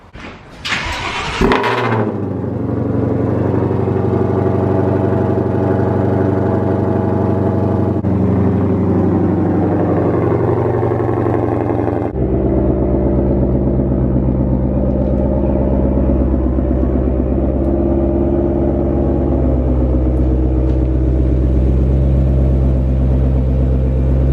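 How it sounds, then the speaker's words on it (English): A 2020 Ford Mustang GT500 cold-starts with a sharp cranking burst and roar, then settles into a loud, deep, steady idle rumble that shifts slightly lower partway through, running on alone without talk. "It's time for a cold start."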